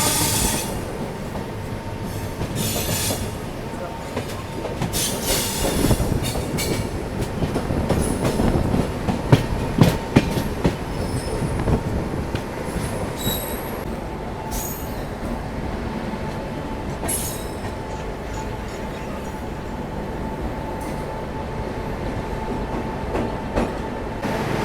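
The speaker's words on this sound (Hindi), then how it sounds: "देखो अपनी ट्रेन पहुंच गई रंगिया जंक्शन" Shatabdi Express rolling into Rangiya Junction on the Guwahati line, a steady rumble of rail cars with clickety-clack and brief wheel squeals, heard close from on board with no talk.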